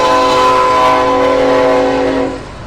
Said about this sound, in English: So how often do the trains come through?